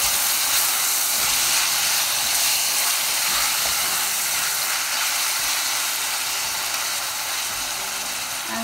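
Seasoned pork frying in a pan for bitter melon with eggs and black bean garlic sauce gives a steady, loud, broadband sizzle and hiss that carries on unbroken, with faint clatter underneath and no talking.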